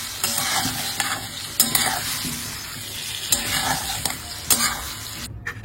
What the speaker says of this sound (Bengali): এই যে মটরশুঁটি, এগুলো ভাজা হলো।